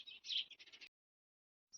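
Baby birds in a nest give a quick burst of thin, high, close chirps, then go quiet before a brief chirp returns.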